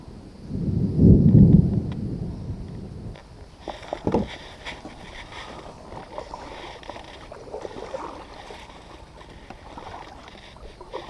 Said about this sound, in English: Is it thunder?